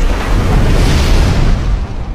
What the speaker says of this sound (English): Look at that big fire breath.